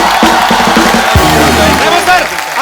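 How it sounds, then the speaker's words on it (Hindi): Studio audience on a Hindi comedy talk show breaking into loud cheering, whooping and clapping for an arriving guest, a dense crowd roar close and continuous, with voices shouting over it. "जोरदार तालियां हो जाए"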